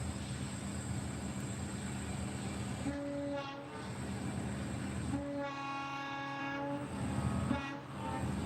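Northbound freight train rolling past close by near Reddick Junction south of Chillicothe on the DT&I line, a steady heavy rumble throughout with two bursts of the air horn, one brief and one longer, sounding over it.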